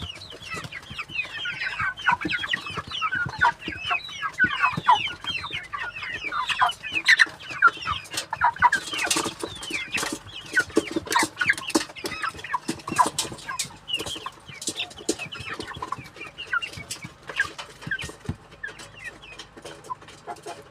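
A flock of broiler chickens clucks busily and continuously, dense overlapping calls close by throughout with no talking.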